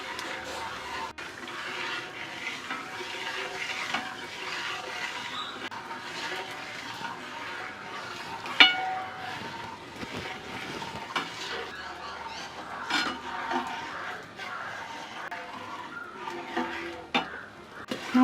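Thick herbal postpartum lehyam simmers slowly over low heat in a pot while a spoon scrapes and stirs it, giving steady clinks and scraping with a soft bubbling background and occasional sharper knocks against the pot.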